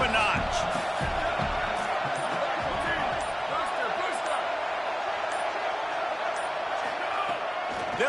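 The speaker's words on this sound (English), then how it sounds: "this crowd is turning it up a notch." Dense, steady roar of a stadium crowd in an NCAA football video game, loud and continuous throughout, with scattered thumps and a commentator talking over it.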